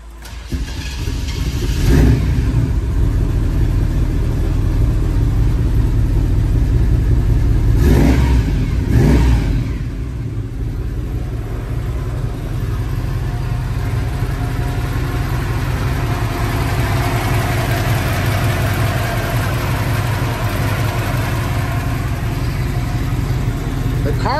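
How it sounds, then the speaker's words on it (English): The engine of a 1975 Chevrolet Caprice convertible fitted with a gear drive runs loudly, rising in a couple of revs early on before settling into a steady idle rumble; a voice speaks briefly over it. "car sounds amazing."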